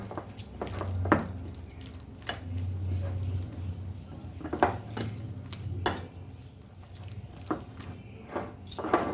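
Banana flower fritter batter with gram flour, sugar and salt is mixed by hand in a bowl, giving soft wet squishing and occasional clinks of the bowl, faint and close, in an uneven rhythm.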